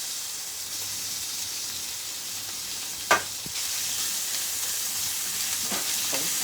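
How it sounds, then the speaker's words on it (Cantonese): Prawns fry in oil in a home wok with a constant close sizzle and hiss. A single utensil clack lands midway. "咁咪拎啲蝦碌落去煎啦"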